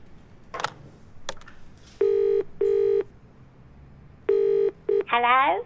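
Telephone keypad tones beep in short steady bursts with pauses between them, loud and close, after a few clicks and followed by a warbling ring-like tone.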